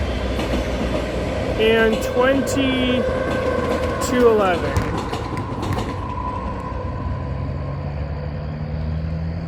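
VIA Rail passenger train VS79, a Toronto-to-Windsor run detouring over the CN Halton Subdivision, rumbles past trackside with creaking, clattering cars and a couple of sustained horn-like tones, while someone talks briefly over it.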